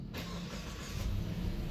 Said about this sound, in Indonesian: tekan start engine button yang ada di sebelah kiri sini untuk menyalakan mesinnya